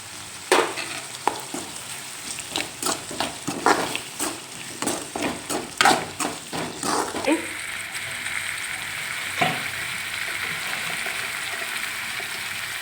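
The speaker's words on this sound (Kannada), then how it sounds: "ಟೊಮೆಟೊ ಹಾಕ್ಕೊಂಡು ಟೊಮೆಟೊನು ನೀಟಾಗಿ ಫ್ರೈ ಮಾಡ್ಕೋಬೇಕು" Tomatoes fry in a pan with turmeric, first stirred in a run of rhythmic scraping strokes over a hissing sizzle, then left to crackle steadily on their own, close up and without speech.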